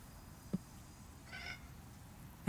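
A house cat meows a few times, short separate calls spaced apart, the last one louder and closer, over a quiet room background.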